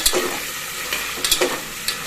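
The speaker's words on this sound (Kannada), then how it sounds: "ಕಡಲೆಕಾಳು ಫಸ್ಟು ಒಗ್ಗರಣೆಯಲ್ಲಿ ಸ್ವಲ್ಪ ಬಾಡಿಸ್ಕೋಬೇಕು" Chickpeas sauté in hot tempering oil for a chickpea and green gram sambar, giving a continuous crackling sizzle broken by a few scraping stirs of the pan, with no voices.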